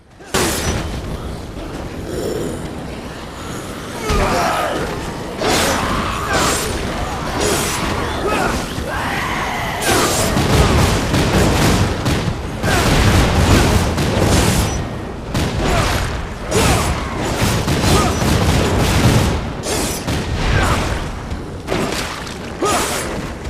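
Ultimate Grim Reaper weapon attacks in the Dead Rising 3 video game: a dense, continuous barrage of heavy booms, crashes and mechanical clatter, loud and relentless, with rapid repeated impacts.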